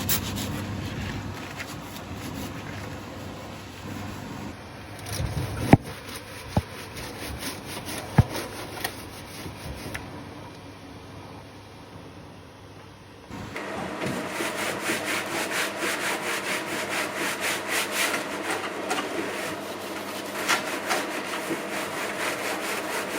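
A metal scourer scrubs grease off a kitchen extractor fan filter, steady close scratchy rubbing that grows louder and denser partway through, with a few sharp clicks early on.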